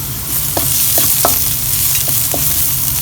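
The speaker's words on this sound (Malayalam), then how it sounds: "അതുകൂടി ഇട്ടിട്ട് ഒന്ന് സോഫ്റ്റ് ആകുന്നവരെ വഴറ്റി കൊടുക്കുക." Onions sauté in a pan with crushed dried red chilli for chicken lollipops, giving a loud, steady sizzle broken by a few sharp stirring scrapes. No voices.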